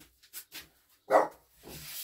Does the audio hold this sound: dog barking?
yes